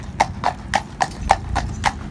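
A big horse walks on with a steady clip-clop of hooves, eight even footfalls close by against faint background noise.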